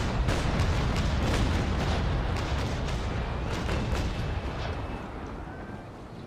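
Naval gunfire in a naval action game, a rapid series of sharp cannon shots and booms firing close together over a rumbling low roar, fading slightly toward the end.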